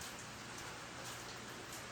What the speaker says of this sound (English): Alright, I apologize for the rain.